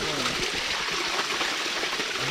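A small waterfall of clean fresh water pours steadily nearby, a continuous rushing flow with light splashing and no voices.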